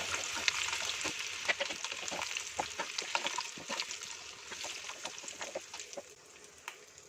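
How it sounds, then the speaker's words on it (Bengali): Potatoes fry in oil over medium gas heat, a soft crackling sizzle with frequent small pops and spatters, fairly quiet and with no voice. "গ্যাসের আঁচটা আমি মিডিয়ামে রেখেই আলুটা ভাজছি।"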